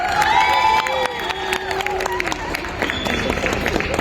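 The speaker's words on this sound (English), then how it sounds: "Can we hear a loud cheer for our 3rd placer?" A crowd cheers and shouts for the third-place winner at a school science competition's awards ceremony, with a loud, sustained burst of voices that stays dense throughout, mixed with some clapping and high children's shouts.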